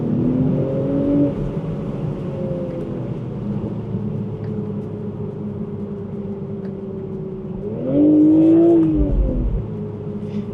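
BMW M340i or Z4 M40i with a B58 engine, a steady deep exhaust drone heard from the cabin, swelling into a louder rev near the end with a brief rumbling burst.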